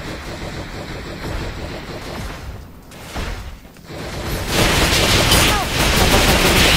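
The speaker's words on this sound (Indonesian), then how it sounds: "Wah, ada yang nembak." Gunfire in a Dragon Ball video game: dense bursts of shots and rapid fusillade, loud and continuous, rising in intensity toward the end with whooshing effects mixed in.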